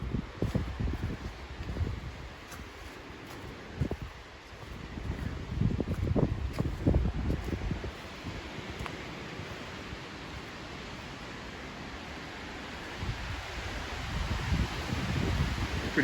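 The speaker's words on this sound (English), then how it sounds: "Pretty windy today." Gusty wind blows through woodland in Tucker County, West Virginia, a broad rushing roar with buffeting microphone rumble that swells and eases, with faint rustling and no voices.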